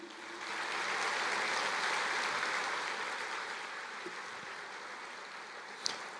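A congregation at a church service applauds, a broad, even patter of clapping that rises quickly, holds steady and then slowly thins out, with one sharp click near the end.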